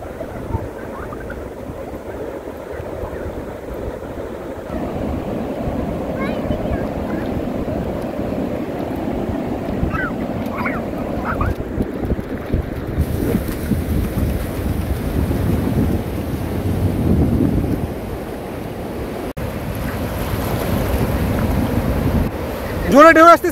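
Strong sea waves surge and break on a beach at Patuartek near Inani, Cox's Bazar, under a cloudy evening sky, a continuous rumbling wash with wind buffeting the microphone and swells building toward the end.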